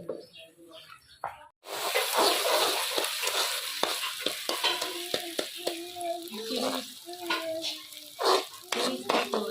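A spoon stirs thick nashte ka halwa in a pot, breaking up lumps, with steady scraping and soft sizzling frying close by and brief sharp knocks against the pan; a voice speaks over it.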